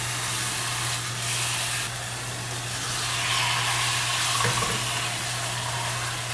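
Flap steak sears in butter in a pan on a stove at medium-high heat, giving a steady, loud broadband sizzle with no talking, a brief clatter near the end.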